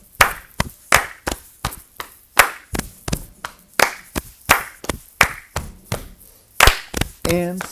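Steady, evenly spaced hand claps for a fourth-grade class to follow, loud and close, sharp and regular throughout with a brief pause near the end.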